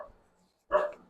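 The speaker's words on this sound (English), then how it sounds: "Oh, now they're just gonna bark." Dogs barking indoors in a home kitchen during cooking: after a near-silent pause comes one loud, close burst of barking that fades quickly.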